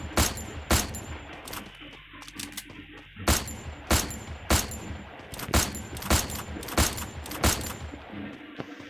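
Gunfire in the mobile game Free Fire, played with a controller: sharp, loud shots repeat in a fairly steady rhythm with short gaps between them, and a voice speaks faintly in places.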